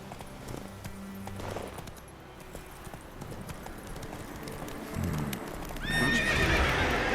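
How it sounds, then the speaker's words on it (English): Horse in The Witcher 3: Wild Hunt on PS4, hooves clip-clopping in a steady galloping rhythm under game ambience, then a loud, close neigh near the end. "Was that the horse of the Witcher?"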